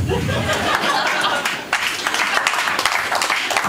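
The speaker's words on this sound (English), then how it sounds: "It's worth an applause." An audience at a comedy club breaks into applause mixed with chuckles, a dense crackle of clapping filling the room at moderate loudness from start to end.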